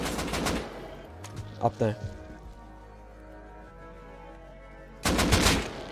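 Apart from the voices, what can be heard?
gunfire in the video game Rust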